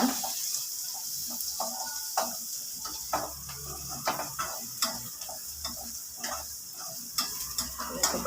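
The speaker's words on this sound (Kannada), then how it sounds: "ಇವಾಗ ಫ್ರೈ ಆಗಿದೆ ಈರುಳ್ಳಿ ಎಲ್ಲ" Onions fry in a pan under a continuous sizzle while a spoon stirs them in repeated scraping strokes, close and fairly quiet.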